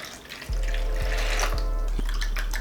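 Three percent hydrogen peroxide pours steadily from a bottle into a container, a continuous close splashing stream for about two seconds, with a few glugs as the bottle empties.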